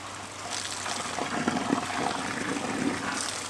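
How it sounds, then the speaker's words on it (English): Water from a hose sprays steadily onto concrete, making a constant close hiss and splash that continues for several seconds with no one speaking. "let's put some water on the concrete"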